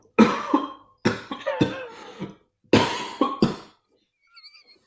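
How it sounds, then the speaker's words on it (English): Several harsh coughs in two bursts, close to the microphone, with short pauses between, followed by faint quiet sounds; a lingering post-COVID cough. "It's my post-COVID cough."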